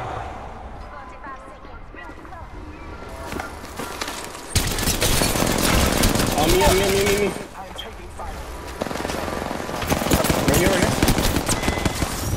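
Weapons fire in the video game Apex Legends comes in repeated bursts of rapid shots, loud and close, with busy stretches broken by short lulls. Players talk throughout.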